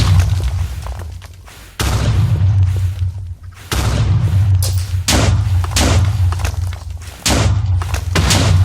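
A wither in Minecraft firing explosive skulls, heard as a series of loud, heavy booming blasts in bursts with deep rumbling between them, close and powerful, no talking over it.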